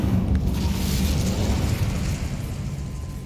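Incendio fire spell cast in Hogwarts Legacy, a sustained, loud whooshing roar of flame with a deep rumbling burst that holds steady for several seconds before easing slightly, with no talking.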